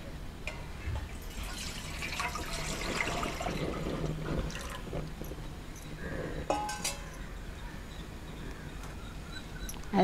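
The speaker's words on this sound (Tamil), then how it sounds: "குண்டான் காஞ்சிட்டு தண்ணியை ஊற்றிடுவோம்." Water poured into a heated pot on a village stove for black rice porridge, faint trickling and clinking with light metallic taps, quiet and close, no voices.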